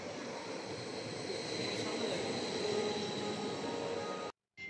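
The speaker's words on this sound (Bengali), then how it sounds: "এই তো আমাদের ট্রেন চলে আসছে, এটাতে করে হচ্ছে আমরা যাব। ট্রেনটা এখানে থামবে।" A passenger train pulls into a snowy station in Hungary and slows to a stop, a steady loud rumble of wheels and carriages with a faint high squeal, continuous until a brief drop near the end.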